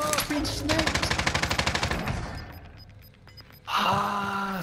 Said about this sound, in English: Somebody's sniping me through the green roof.